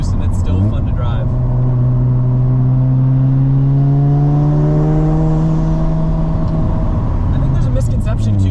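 A rotary-engine car droning loudly and continuously up close, its pitch climbing gradually and then easing off, with no talking.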